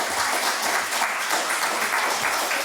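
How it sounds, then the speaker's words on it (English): An audience at an academic lecture applauds steadily, dense clapping at a sustained moderate level with no voices over it. "You can clap for him"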